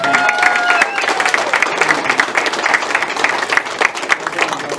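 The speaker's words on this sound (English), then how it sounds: "let's give a big round of applause to the fighters" A crowd at a boxing hall of fame announcement applauds the fighters with loud, dense clapping and some cheering, a voice briefly audible at the start.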